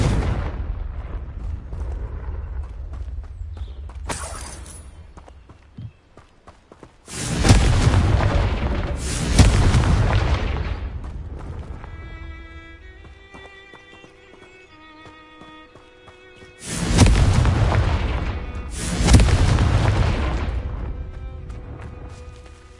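Confringo fire spell explosions in Hogwarts Legacy, three heavy booming blasts, each with a rumbling tail, spaced apart between quieter stretches that carry soft chiming tones.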